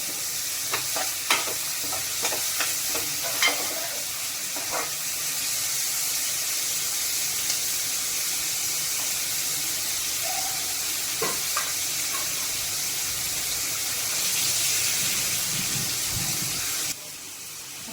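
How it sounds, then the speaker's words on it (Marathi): Onion frying in a pan for vegetable biryani, a constant soft sizzle with spatula taps and scrapes as it is stirred, fairly close, with no voices. "कांदा चांगला भाजू द्यायचा लाल होऊ द्यायचा"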